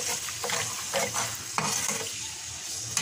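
Capsicum rice frying in a pan, lemon and salt already added, as water goes in: a steady loud sizzle with stirring scrapes and a sharp hiss spike near the middle.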